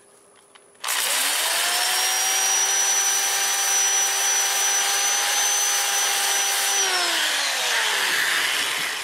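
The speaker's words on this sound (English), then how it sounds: "I'm going to sand that in reverse." A flame maple burl turning on a lathe, the motor switching on with a sudden rise to a loud steady whine that holds for several seconds and then winds down in pitch, heard close with no talk.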